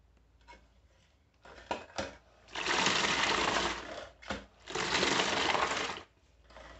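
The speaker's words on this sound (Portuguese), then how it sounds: "agora eu vou colocar aqui pra centrifugar" A spin mop bucket whirls the mop head dry in two steady, moderately loud spinning runs, with a few clunks and clicks before and between them, and no talk.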